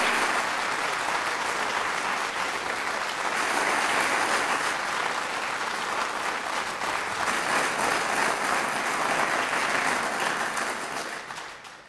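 A roomful of people applauds at a Milford selectmen's meeting, sustained dense clapping that holds steady for several seconds, swells slightly midway and begins to fade near the end, with no talking over it.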